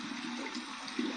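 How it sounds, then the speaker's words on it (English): Cold tap water runs steadily over an alum block held under the stream, a continuous hiss of splashing water heard close and alone. "Run this under some cold water here"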